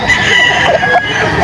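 A stag rooster crows at a poultry market in Bocaue, Bulacan, one loud, drawn-out call standing clear over a busy background of other fowl.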